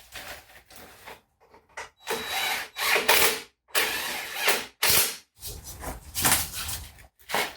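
An impact gun runs on the rear suspension link bolts of an Audi A4 B7 in repeated loud, close whirring bursts of about a second each, separated by short pauses.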